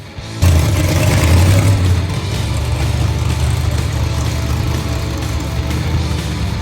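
A supercharged big-block V8 in a 1956 Chevy runs loud and close, a heavy deep rumble with a brief swell at the start before settling into a steady, throbbing idle throughout.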